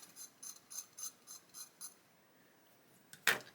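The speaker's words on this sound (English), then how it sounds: "It's easy to scrape that off." A knife scraping excess glue off a surface in about seven quick, light, rhythmic scrapes, then a brief pause and one sharper, louder scrape near the end, close and clear with no talking.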